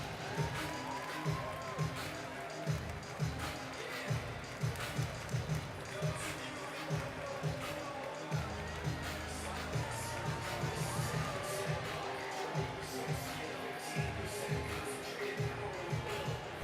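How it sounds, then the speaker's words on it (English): A large crowd at a JCC Maccabi Games opening ceremony in Detroit cheers and claps for a welcomed team, a continuous distant roar with shouts and a low rumble beneath. "Now a nice round of applause for Team Springfield."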